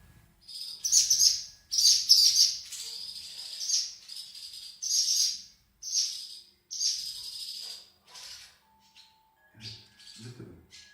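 Swallows calling in a social group, a run of bright twittering chirps in repeated bursts, fairly close, with brief quiet gaps and faint low rumbling near the end.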